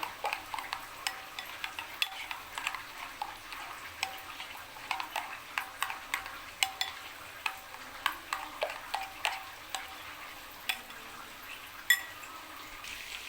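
Mutton with yogurt stir-fried in a pan for Lahori daal gosht: a steady soft sizzle with repeated scraping and clinking strokes of a spoon against the pot, moderately close, no talking.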